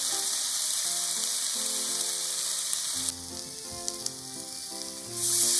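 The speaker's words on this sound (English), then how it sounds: "Once one side is cooked, flip the yakitori over." Chicken pieces for yakitori sizzle and fry over medium heat in a frying pan, a steady crackling hiss close up that swells louder near the end, with faint light tones in the background.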